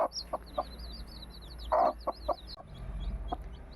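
A hen clucks in short, repeated bursts while newly hatched chicks peep continuously in high, rapid chirps nearby.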